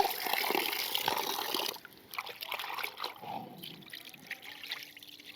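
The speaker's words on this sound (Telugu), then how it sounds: "ఇదంతా మజ్జిగ అనమాట, మజ్జిగ పోతుంది." Water trickles and splashes as cut bommidayi (freshwater eel-loach) pieces are rinsed, the buttermilk draining off them in a kitchen; steady close pouring and dribbling with small splatters, with no talk.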